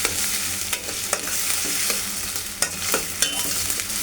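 Onion and spices sizzle loudly in a hot pan during a Bengali chicken and potato curry, a constant close frying hiss broken by repeated scraping stirs of a utensil against the pan.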